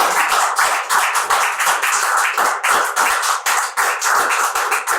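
An audience at a poetry event claps steadily in a dense, close, continuous round of hand claps with a slightly uneven rhythm, with no voices over it.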